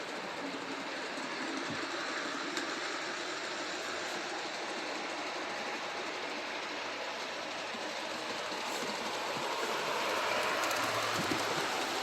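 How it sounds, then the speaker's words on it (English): An LGB garden-scale tank engine with an extra tender runs steadily around an outdoor track, giving a continuous low rumble and faint rail clatter at moderate distance, with no talking. "It's basically the same train as I had on yesterday, but we've got the LGB engine out on it."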